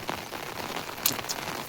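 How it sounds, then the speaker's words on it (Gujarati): Monsoon rain falling steadily on surfaces, a dense close patter of drops with a few sharper splashes standing out, continuous and fairly loud with no voices. "અત્યારે વરસાદ ચાલુ જ છે"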